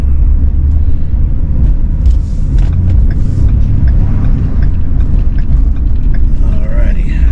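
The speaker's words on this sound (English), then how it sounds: "These work trucks always are pretty rough riding." Cabin of a rough-riding work truck on the road, a loud constant low rumble with scattered rattles and knocks from the bumpy ride, a voice talking briefly over it near the end.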